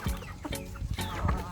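Free-range chickens clucking nearby, several short, irregular clucks and squawks close up over a busy farmyard background.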